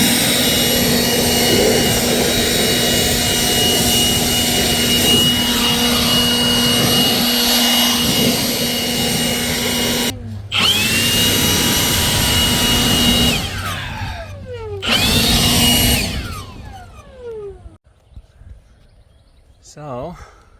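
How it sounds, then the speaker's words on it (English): A powerful leaf blower roars steadily while clearing leaves from roof gutters on a shop, cutting out and restarting a few times before dying down near the end. "Took the leaf blower, that worked extremely well. That thing's a beast."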